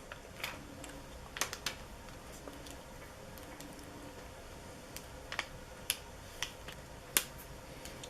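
Short sharp clicks and scrapes, scattered and quiet at close range, as a metal dental pick lifts and peels excess heat transfer vinyl from its carrier sheet around intricate cut shapes, with no talking.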